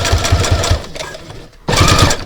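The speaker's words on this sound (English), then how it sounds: "Now we're going to sew down this other side." Sewing machine stitching a narrow seam on a card wallet, loud rapid rhythmic needle thumping in two bursts separated by a brief pause.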